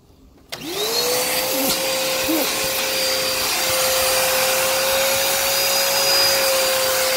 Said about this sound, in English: everything that I just sucked up has been spat out onto the ground